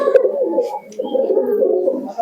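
Teddy breed pigeons coo in low, rolling bursts close by, a near-continuous soft murmur with a brief pause midway.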